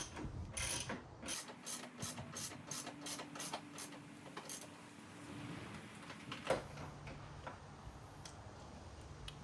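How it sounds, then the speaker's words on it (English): A ratchet tightens the rear bolt of a Mace cold air intake on a Holden Commodore, with a fast run of close, crisp clicks in the first few seconds followed by quieter mechanical ticking. No one speaks. "Now to just tighten the back bolt"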